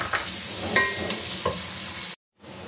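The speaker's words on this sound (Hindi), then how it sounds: "और इसे फ्राई करेंगे।" Onions frying in oil give a steady close sizzle with light stirring clinks, then the sound cuts out briefly before resuming.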